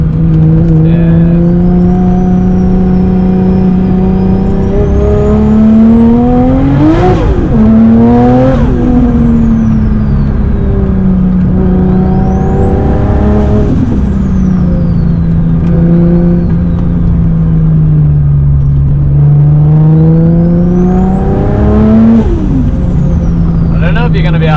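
A 500HP Nissan S15 with an RB26 engine pulls hard on a mountain road, its loud, close engine note rising and falling through repeated revs and gear changes, with brief whooshes between surges.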